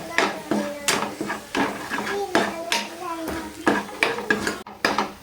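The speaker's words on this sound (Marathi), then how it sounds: "एक चमचा गोडा मसाला हे पण छान फ्राय करून घेतो" A spoon stirs goda masala frying in a pan for misal, giving repeated close scraping and clinking strokes of metal on the pan over a faint sizzle, with no talking.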